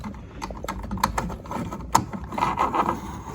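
Pocket door hardware rolling on its roller wheels along an overhead track, an uneven run of close clicks, rattles and rumbling mechanical taps with one sharper knock midway.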